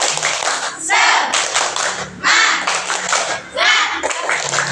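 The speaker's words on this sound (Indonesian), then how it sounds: "mari kita tepuk semangat bersama. Tepuk semangat." A school class performs a rhythmic group clap chant, bursts of many hands clapping in patterned phrases alternating with children's voices chanting in unison, loud and close in a classroom.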